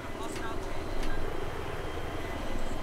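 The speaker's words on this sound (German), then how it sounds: "Da kommt ein Jet." A jet aircraft flies past during a Battlefield 3 multiplayer match on Nebandan Flats, a steady broadband engine roar that swells slightly around the middle, with players talking over it.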